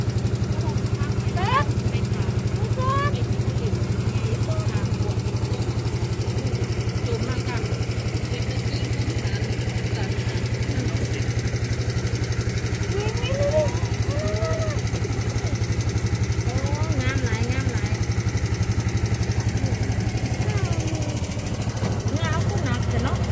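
A steady, loud boat engine drone runs throughout with a constant low hum on a lake, with faint voices and bird calls scattered over it.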